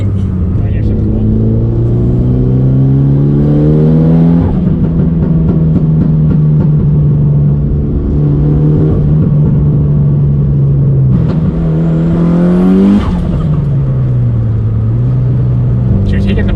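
A turbocharged Mitsubishi Evo engine, tuned to around 500 horsepower, revs loudly up close, rising in sweeps and dropping back several times, with voices heard beneath the engine.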